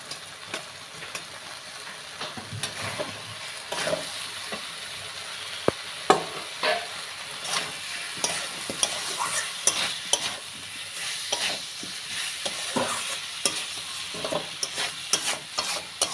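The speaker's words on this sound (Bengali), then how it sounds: "সুন্দর করে কষাবো।" Turmeric, salt and chopped tomato stir-frying in hot oil with potatoes for a Bengali broccoli curry: a steady close sizzle broken by repeated scraping and clattering spoon strokes, no voices.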